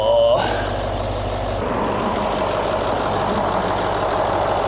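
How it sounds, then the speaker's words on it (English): A steady, low Range Rover engine rumble idles continuously and evenly, close by, with a brief higher tone at the very start. "So the engine sounds sweet as a nut."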